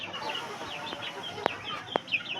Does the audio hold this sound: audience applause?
no